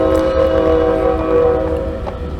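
A CSX freight train rolls past near Waycross, its horn sounding loud and sustained over the steady rumble of the cars, with no talk.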